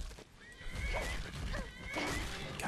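Horses neighing and whinnying in the Skyrim video game, with hoofbeats underneath and a dense layer of game noise throughout.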